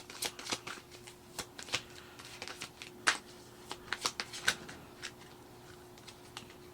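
Tarot cards shuffled by hand in a quiet room, giving a run of crisp, irregular riffling snaps and soft slaps of varying loudness, heard close with no talking.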